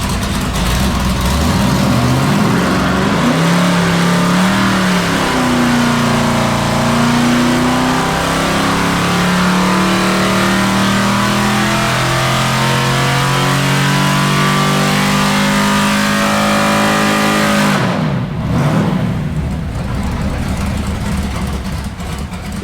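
A rebuilt big-block LS6 454 with a solid-lifter cam revs hard on a dyno, its loud roar climbing and holding for about eighteen seconds before dropping off abruptly, then settling into a lower rumble.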